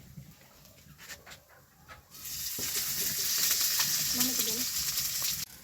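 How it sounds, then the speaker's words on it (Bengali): Onions hit hot oil and burst into a loud, steady sizzle that keeps crackling after a few quiet seconds of kitchen noise. "আমি প্রথমে পেঁয়াজটা ভাজে নিব"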